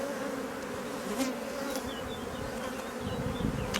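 Honey bees crawling over a brood frame with raised drone brood, giving a steady close buzzing hum with a few louder passes of individual bees near the end.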